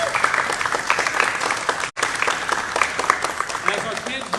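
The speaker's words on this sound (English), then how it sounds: "Give him a big round of applause" Audience applause for Senator Michael Gianaris at an event, dense steady clapping from a crowd filling the room, with one very brief break.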